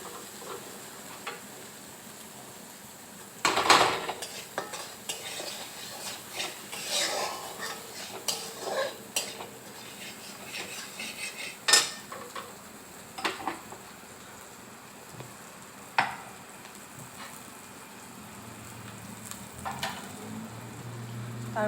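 Food being stirred in a pan, with scattered clinks and scrapes of a utensil against cookware over a low background, the louder knocks coming at irregular intervals.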